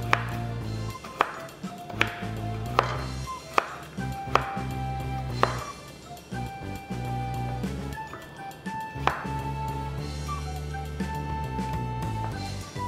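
A knife chops carrots lengthwise into thin strips for japchae, sharp taps landing every second or so in a loose rhythm over a steady low background hum.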